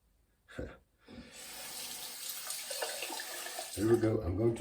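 Tap water runs as a razor is rinsed beneath it, a steady close splashing flow after a brief knock at the start, rising louder near the end with a voice briefly heard.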